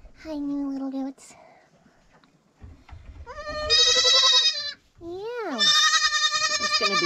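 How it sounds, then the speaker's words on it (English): Young Kinder goat kids bleat in loud, wavering cries, several calls in a row with short pauses between, close by, with a few soft human sounds in the gaps. "Hi, new little goats."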